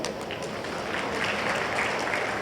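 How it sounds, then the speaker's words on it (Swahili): An audience at a stadium event in Dar es Salaam applauds, a steady wash of many hands clapping at moderate distance, swelling slightly and holding without pause. "naomba mimi nipigie makofi"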